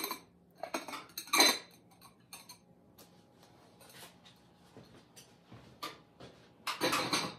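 Glazed ceramic butter dishes clink and clatter against each other as a glaze kiln is unpacked, with scattered bright knocks and scrapes, a sharp cluster near the start and a louder burst at the end, close and unaccompanied by voices.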